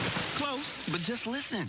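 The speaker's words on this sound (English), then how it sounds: "that's the sound of a fruity flavored Fanta orange soda new at McDonald's" A cup of Fanta orange soda fizzes with a steady, soft hiss of bubbles under a voice talking over it.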